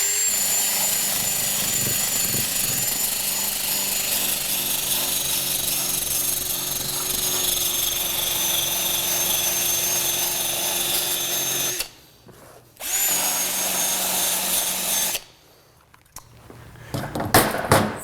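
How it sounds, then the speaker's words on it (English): A hoof buffer grinds against a horse's hoof wall to clean it, giving a steady whirring power-tool drone that runs for long stretches and cuts out twice briefly before resuming. "a hoof buffer is another great tool for cleaning the hoof wall"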